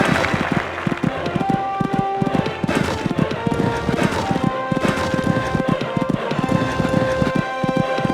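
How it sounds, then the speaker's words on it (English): Rapid, rhythmic hoofbeats of a horse cantering close by, steady and loud, with a faint murmur of crowd noise behind. "Cantering along this section now."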